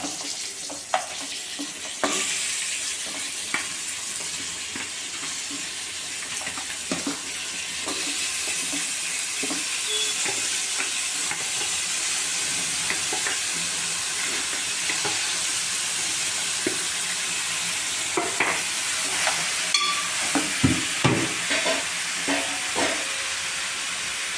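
Mutton head curry fries in a pan after onions and green chillies have been browned, giving a continuous sizzling hiss broken by clinks and scrapes as the meat is stirred.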